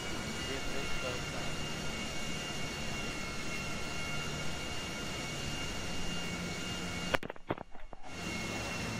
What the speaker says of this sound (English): I'm gonna land this plane, watch.